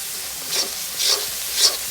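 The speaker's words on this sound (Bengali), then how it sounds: "এই যে দেখেন এখানে সবগুলো হচ্ছে মশলা দিয়ে আমি সুন্দর মতো কষায় নিচ্ছি তেলের মধ্যে দিয়ে" Spices and chillies fry in hot oil for a spiced khichuri base, a steady soft sizzle broken by three brief louder bursts of hissing as the mixture is stirred.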